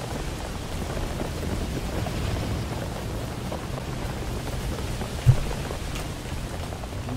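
Steady, dense acid rain in the Roblox game Horrific Housing hisses throughout with a low rumbling undertone and one brief thump near the end; no voices.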